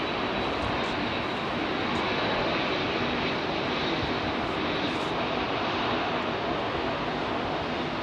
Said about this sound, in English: Airline Dreamliner.